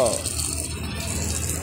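Water from a hose pipe being sprayed onto plants and flowers in Gaighat park, a steady continuous rushing gush close by, with no break through the short stretch.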